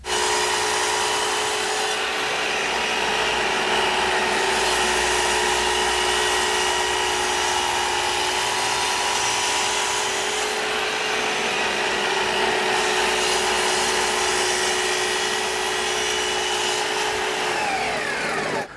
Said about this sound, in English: I'm going to square one end, measure it for length,